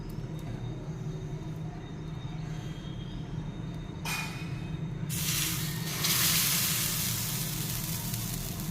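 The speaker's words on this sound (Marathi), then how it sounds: "तवा छान तापलेला आहे आता त्याच्यावर आपण डोसा घालूयात" Millet (rala) dosa batter hits a hot griddle and bursts into a loud, steady sizzle that swells and holds, over a low background hum.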